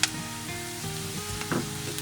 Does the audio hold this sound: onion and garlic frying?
yes